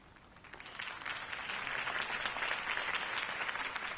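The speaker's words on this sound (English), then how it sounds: "could have heard that applause" Crowd applause after a campaign speech in the Telltale Batman video game, a continuous wash of clapping that swells gradually and holds, moderately loud with no talk over it.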